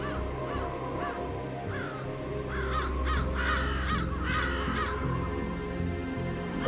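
Crows in the video game Dusk caw over and over, a run of loud, clear, hoarse calls coming in uneven bursts above a steady low ambient drone.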